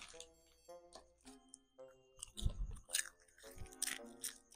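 Stale pizza-flavored snack chewed close up, soft irregular crunches and mouth sounds in short bursts, quiet overall, with a voice speaking partway through.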